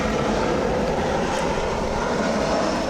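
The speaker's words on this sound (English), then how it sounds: "Nope, that was the plane." Airplane passing overhead in sunny California, a loud, continuous engine roar that stays steady and broadband throughout.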